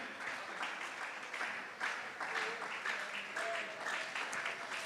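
A church congregation at a Spanish-language Sunday morning service applauds steadily in dense, close clapping for the full stretch, with a voice speaking over it.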